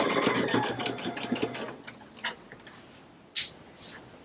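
A sewing machine stitches fabric for a table runner just inside a border line, its rapid mechanical whir running steadily for about two seconds before giving way to a few quieter clicks and handling noises.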